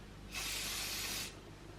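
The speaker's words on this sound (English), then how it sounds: "I'm gonna get some hairspray." Hairspray hisses from a can in one short, steady burst lasting about a second, close and fairly soft against a quiet room.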